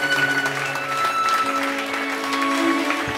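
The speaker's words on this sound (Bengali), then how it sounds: "সবাই মিলে হাততালি দিয়ে স্বাগত জানান লুনা।" Applause from a gathered audience welcoming a special guest, the moon-visiting Luna, in an animated story; steady clapping with sustained musical tones running underneath.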